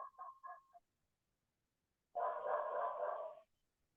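A dog barks nearby at home, a quick run of short yelps followed after a pause by a longer drawn-out bark or howl, heard alone without talk.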